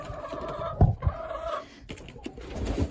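Chickens cluck close by in short, irregular bursts, with a few louder squawks among the softer clucks, where hens lay eggs in sand and ash.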